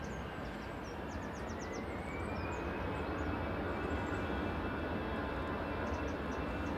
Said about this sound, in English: EasyJet roll in the background to Lyon